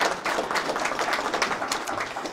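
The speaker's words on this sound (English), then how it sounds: "give her a round of applause for showing up tonight" An audience at an evening presentation applauds a guest, a steady wash of many hands clapping in a room, fairly loud and continuous with no voices over it.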